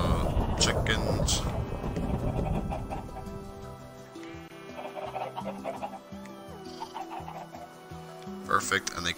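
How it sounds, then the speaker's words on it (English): Chickens in a Minecraft barn build cluck in short, scattered bursts, fairly faint and mixed with other game noise, while a voice talks. "Chicken, we need chickens."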